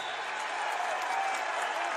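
A basketball arena crowd at a college tournament semi-final stands and cheers in a loud, steady roar of applause and shouting near the end of the half, with no break.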